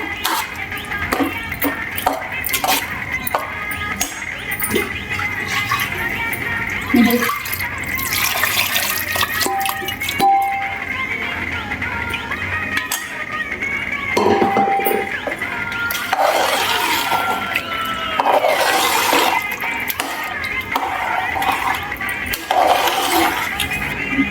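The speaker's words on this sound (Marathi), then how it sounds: "आपण ह्यात थोडं अजून पाणी घालूया" Water runs and splashes steadily into a pot of thick pav bhaji vegetable curry, with a gurgling, pouring quality and some clatter of kitchenware, lasting the whole stretch.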